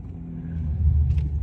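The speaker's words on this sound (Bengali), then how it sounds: "ও মোটরসাইকেল আসতেছে একটা" A motorcycle comes along a hilly road in Elan Valley, its low engine rumble swelling steadily louder as it draws nearer over about a second and a half.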